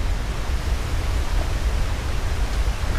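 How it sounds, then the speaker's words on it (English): A steady, full rushing roar of falling water from a waterfall in the video game Red Dead Redemption 2, continuous and even throughout with no voices. "There's a real nice waterfall here."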